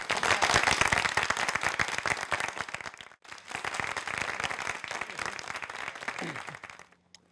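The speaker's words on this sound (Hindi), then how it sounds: "तालियां" Audience applause breaks out for an award presentation, a dense wash of many hands clapping, loud and sustained, dipping briefly midway before swelling again and fading out.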